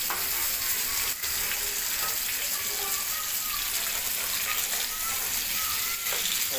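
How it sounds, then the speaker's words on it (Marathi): Stuffed pomfret (sarga) frying in a pan, a steady, dense sizzle running continuously throughout at close range, with small crackles and pops scattered over the hiss. "अशा प्रकारे दोन्ही पापलेट फ्राय करण्यासाठी टाकलेले आहेत."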